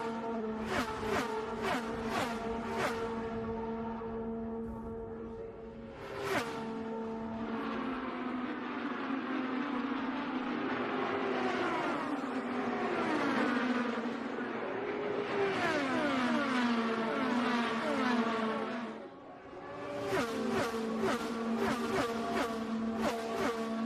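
IndyCar race cars scream past during Indianapolis 500 practice, each whining engine rising and falling in pitch as it passes. Several cars go by in close succession, with a quiet gap in the middle and a fresh run of fast passes near the end.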